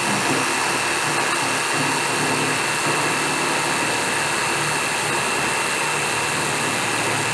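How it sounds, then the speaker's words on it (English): A jigsaw cuts the cope profile into a piece of baseboard trim, giving a loud, close, steady buzzing whine that runs unbroken from start to finish with no voices. "just with my jigsaw right there, I've already cut out the profile for this piece right here"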